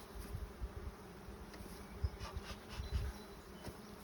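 Honeybees buzzing at a hive box, a close, steady hum with individual bees droning past in uneven swells, no voices heard.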